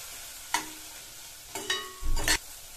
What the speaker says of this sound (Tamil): சவோட தீயை நல்லா குறைச்சிட்டு இப்போ வந்து இதை வதக்கிக்கலாம்.